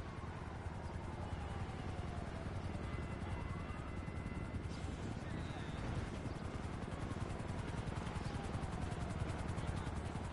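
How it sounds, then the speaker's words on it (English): A helicopter arrives in a GTA video game, a constant loud rotor whir and engine rumble that fills the scene, with a faint whining tone sweeping through it. "A helicopter has been dispatched."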